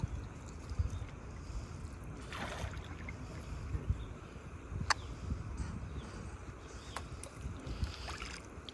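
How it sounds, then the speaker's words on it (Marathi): A small fishing boat moves slowly along a river at a confluence during slow trolling, giving a low continuous rumble of motor and water with occasional faint knocks and splashes. "बंट्याच्या बोटीने आपण चाललो आहोत पकडायला पकडायला हरी संध्याकाळ होईपर्यंत ट्रॉलिंग करतो ना स्लो ट्रॉलिंग करतोय"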